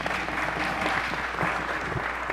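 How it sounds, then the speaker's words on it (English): An audience in a congressional hearing room breaks into dense, steady applause, many hands clapping together at an even level throughout, with no voices over it. "You may applaud if you'd like."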